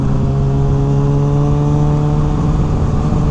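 A 2020 Kawasaki Ninja ZX-6R sport bike's engine drones steadily as it leans into corners, a loud continuous hum with a strong low tone throughout, heard from close by without speech.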